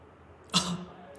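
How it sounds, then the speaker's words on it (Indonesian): One short, close cough bursts out of a quiet room during a hernia examination, followed by silence. "Silakan adik batuk kembali."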